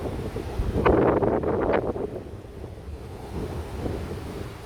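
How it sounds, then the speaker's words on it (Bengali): Sea waves washing on the seashore with gusting wind buffeting the microphone, a louder surge of surf early on that then settles into a steady, fairly close rush. "এই হলো আসল সাগর"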